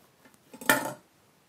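A single knife stroke slices through a boiled egg on a cutting board, a short muffled thunk with a brief crisp edge, close and fairly quiet in an otherwise still kitchen.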